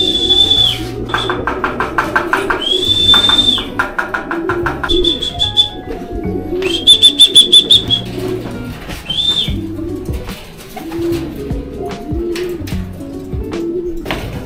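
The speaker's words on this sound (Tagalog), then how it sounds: "Meron na tayong isang ibon." Racing pigeons at a loft after a 241 km training flight from Rosario, La Union: repeated soft cooing and bird calls close by, with a high chirping tone recurring in bursts over a busy, steady background.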